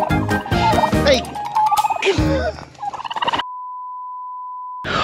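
Turkeys gobble loudly at a campsite, several close rattling bursts with voices talking between them, then the sound cuts to a steady electronic tone.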